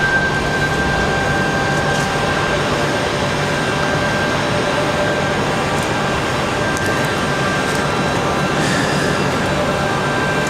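An Air France airliner's jet engines roar steadily and loudly at RDU airport, a constant broad rush with a thin whine held through on a windy day.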